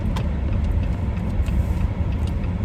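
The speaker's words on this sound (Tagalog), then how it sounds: "Dami ng mga sasakyan na kailangan na nilang sunduin yung mga bata." Many cars and other vehicles on a road during a snowstorm on Prince Edward Island, Canada, gathering to pick up schoolchildren. A steady, low traffic rumble continues throughout with no talking.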